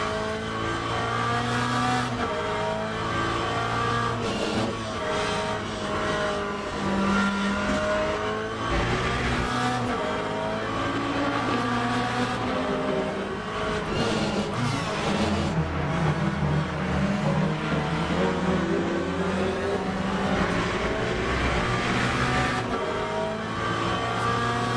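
Hypercar race cars in the Le Mans Ultimate racing game roar past continuously, engines revving and accelerating with occasional tire squeal, loud and steady throughout with no pauses.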